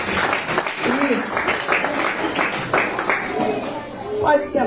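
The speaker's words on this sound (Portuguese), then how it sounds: "Agora as crianças dê glória, bate palmas e glorifica ao Senhor." Children clapping their hands during a church service for kids, a lively patter of many small claps lasting throughout, with voices talking over it.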